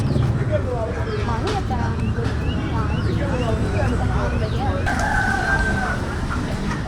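Rooster crowing repeatedly amid clucking fowl at a busy Monday market in Nagercoil, Kanyakumari, with steady crowd chatter and talk underneath.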